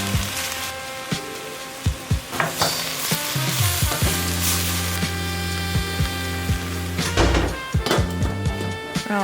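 A cabbage dish cooks in a pot with a steady sizzle and bubble, broken by sharp utensil clanks and scraping from stirring, close and fairly loud over a constant background hum, with no talking.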